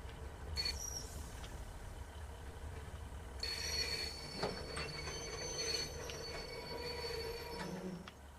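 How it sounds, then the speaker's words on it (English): A train on the Moorswater to Plymouth line in Devon and Cornwall eases into a station platform, its wheels letting out long high squeals over a steady rumble, with brief clicks along the way. "First need to get the train into the platform."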